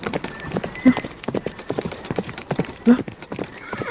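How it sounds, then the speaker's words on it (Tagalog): Horse hooves clip-clopping in an irregular rhythm nearby, with a couple of brief whinnies and faint background voices. "Yung kabayo, tumawid doon."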